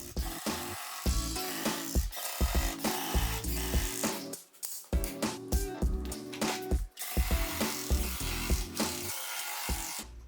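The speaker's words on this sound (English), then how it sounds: "I drove screws through both sides of the plywood." A power drill drives screws through plywood sheets on a small-part storage cart, its motor whining in repeated bursts with short pauses between, close and fairly loud, with no talking.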